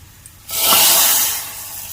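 A sudden loud sizzle bursts out as a hot oil tempering is poured into cooked lentils for dal tadka, hissing strongly for about a second before fading to a softer bubbling.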